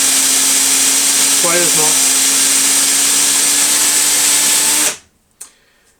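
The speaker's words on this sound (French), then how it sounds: "je laisse tourner et je frotte ça avec la brosse" A spinning part on an indoor RC track car is scrubbed with a brush: a steady, loud motor whine holds until it cuts off abruptly near the end, with a brief spoken word over it.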